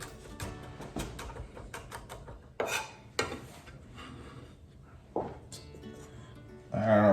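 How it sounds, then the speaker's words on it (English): Garlic being rough chopped with a knife on a board, a handful of separate thuds and scraping rasps at an uneven pace, close and fairly quiet, with a brief louder clatter at the end. "Garlic. Just kind of rough chop on it."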